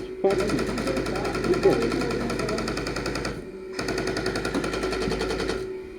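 Airsoft machine gun firing in long rapid bursts indoors at a hotel game site, a sustained rattling stream that breaks briefly and resumes, with a voice calling out over the noise near the start.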